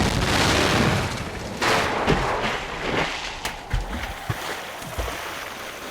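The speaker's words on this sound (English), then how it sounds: "Whoever threw that ice ball at me must have set off an explosion that shattered the ice." A loud explosion shatters ice in a Nancy Drew detective game set at Icicle Creek, starting as a broad rumbling blast followed by scattered cracking and booming impacts that fade over several seconds.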